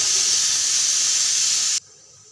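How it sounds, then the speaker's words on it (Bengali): Panch phoron and dried red chillies sizzle loudly in hot oil in a kadai, a bright, steady hiss that runs close and unbroken for almost two seconds and then cuts off abruptly to near quiet. "পাঁচ ফোড়ন আর শুকনো লঙ্কা দিয়ে দিচ্ছি।"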